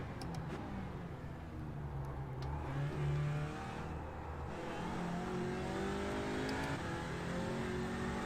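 Audi RS3 race car engine in iRacing at Suzuka, loud and steady, revving up through gears with a downshift and rising drone, with no talk over it.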